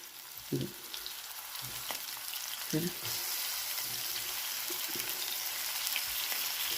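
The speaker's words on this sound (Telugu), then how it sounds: "ఆయిల్ కొంచెం వేడెక్కిందండి ఇప్పుడు ఈ వంకాయలు ఒక్కొక్కటిగా ఇందులో పెట్టుకోవాలి" Eggplants frying in hot oil for a spiced stuffed curry, a steady broadband sizzle running throughout with a few brief low knocks as pieces are placed in the pan.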